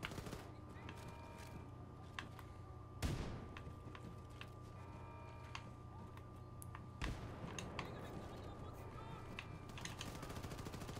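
A grenade blast in Wolfenstein II: The New Order hits as a sharp, loud boom during a steady din of game combat, with scattered gunfire and a second heavy impact a few seconds later.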